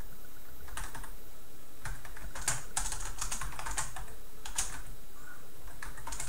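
Keys clack in short irregular bursts on a computer keyboard as a search is typed during a presentation, the taps fairly close over a steady background hiss with no talking.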